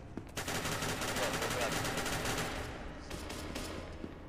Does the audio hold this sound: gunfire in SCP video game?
yes